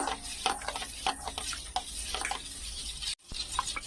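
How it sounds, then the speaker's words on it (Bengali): Warm milk being stirred in a bowl with a spoon, a short run of soft rhythmic scrapes and light clinks, close and fairly quiet, with a brief dropout near the end and no speech. "এটা ভালো করে আমি নেড়ে নেব"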